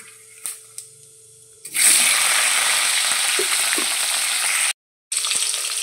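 A small pinch of white cumin crackles quietly in a pan, then chopped tomato drops in and a loud, steady sizzle bursts up and carries on for several seconds, cutting out briefly near the end before resuming.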